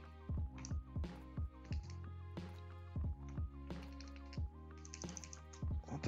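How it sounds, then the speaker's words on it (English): Computer keyboard typing during a programming session, rapid irregular clusters of keystrokes with short pauses, close and fairly loud, no talking. "Keyboard is not working or what?"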